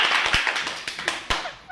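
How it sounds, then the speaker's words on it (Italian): A handful of scattered, close claps from a small group, a few sharp hand strikes over under two seconds rather than a full ovation. "Un altro applauso."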